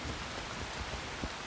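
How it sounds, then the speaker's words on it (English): Rain pours steadily over the landscape of the video game Assassin's Creed Shadows, a dense, even hiss of falling drops with a few slightly heavier spatters, continuous and fairly close throughout. "I mean, it's raining right now"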